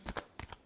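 Tarot cards are shuffled by hand in a quick, close riffle of soft papery bursts, about four short flicks in under a second.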